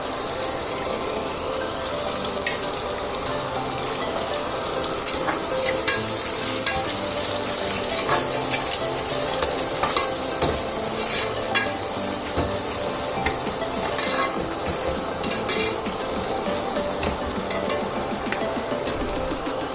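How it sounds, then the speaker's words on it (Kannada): Onions fry in ghee for mushroom biryani, a loud continuous sizzle and bubbling with frequent scraping and clicking of a spoon as they are stirred, steady for the whole stretch with no talking. "ಇದು ಸ್ವಲ್ಪ ಗೋಲ್ಡನ್ ಬ್ರೌನ್ ಬರೋವರೆಗೂ ಫ್ರೈ ಮಾಡ್ಕೋಬೇಕು."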